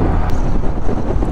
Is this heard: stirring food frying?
no